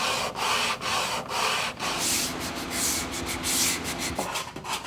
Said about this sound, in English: Oftentimes you're just sanding for hours and hours